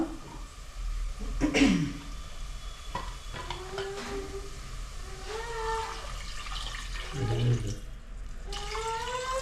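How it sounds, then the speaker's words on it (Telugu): Water splashing and trickling into a metal pot for horse gram soup, with clinks of a spoon and utensils, no talking. "కలుపుకొని నీళ్ళు పోసుకుందాం అమ్మా"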